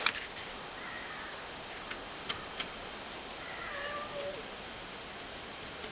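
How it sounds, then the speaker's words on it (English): A faint domestic cat meows twice with a few soft ticks in between, distant and quiet against a steady hiss. "cat's not too happy."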